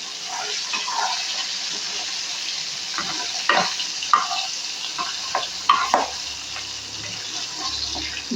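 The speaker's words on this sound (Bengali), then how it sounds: "একটা সাইড হয়ে গেলে আমি মাছগুলোকে উল্টে দেবো" Pabda fish fry in oil in a kadai, giving a constant close sizzle with scattered spatula scrapes and knocks against the pan, growing busier partway through.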